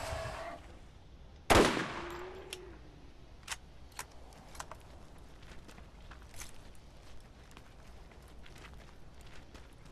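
A single loud burst of gunfire from a weapon in the video game Borderlands cracks out near the start, followed by scattered sharp clicks and light taps over a quiet background.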